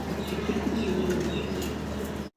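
A pair of Jacobin pigeons coo softly and steadily, low murmuring calls repeating against a constant background hum, with no voices.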